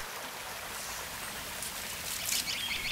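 Creek water flowing in a rural countryside setting, a faint steady trickle and babble with soft higher splashes, heard alone at low level.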